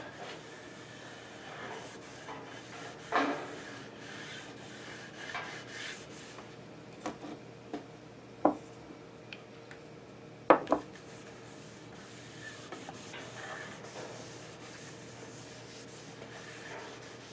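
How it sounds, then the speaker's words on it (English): Soft, steady rubbing of finish by hand onto a wooden school desk tray, a quiet continuous scrubbing with a few louder knocks and scrapes scattered through it. "I'm rubbing the wrong way. Should be rubbing with the grain."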